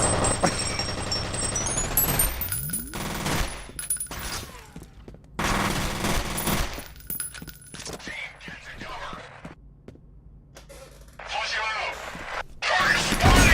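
Rapid bursts of gunfire from a video game played through Vorpx, loud automatic volleys and single shots in clusters separated by quieter gaps, with a voice talking at times.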